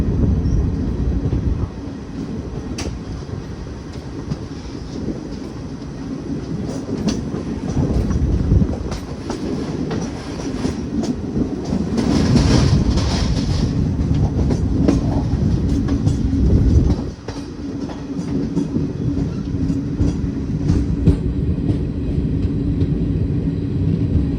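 An Indian train slows toward a station, heard from inside as a loud, steady rumble of wheels on rails with rhythmic clatter over joints, a brief dip in noise, and occasional squeal.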